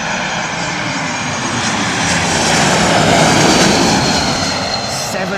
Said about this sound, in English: That's a Pratt & Whitney shod jet.